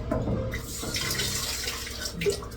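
Tap water runs steadily into a basin during hand-washing of underwear at an outdoor spigot in a remote Lao village, a continuous close splashing flow with no talk.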